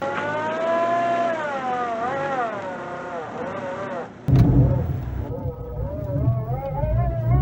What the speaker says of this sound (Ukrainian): Даємо більше газу.